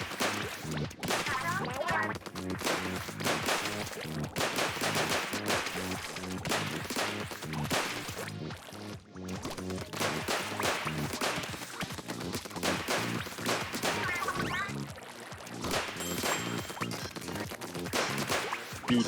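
Rapid, dense gunfire from ink weapons in the video game Splatoon 3 rattles almost continuously throughout, loud and close, with sharp cracking shots layered over game music.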